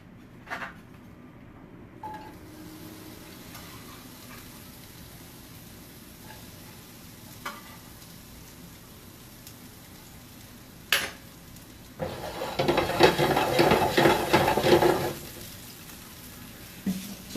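Onions sizzle in olive oil in a pan as they are stirred, a quiet hiss and light clatter building into a loud, crackling burst of frying near the end.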